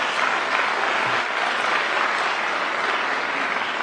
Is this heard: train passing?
no